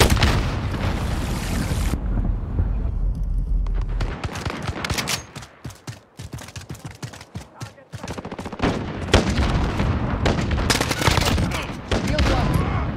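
Frag grenade blast and heavy gunfire in a Call of Duty Modern Warfare team deathmatch, loud dense bursts of automatic fire with booming impacts throughout, a brief quieter gap midway, and game voice callouts mixed in.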